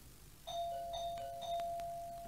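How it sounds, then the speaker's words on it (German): Doorbell in a German radio drama, a two-tone ding-dong chime rung three times in quick succession, clear and close against a quiet background. "Man öffnet nicht beim ersten Läuten."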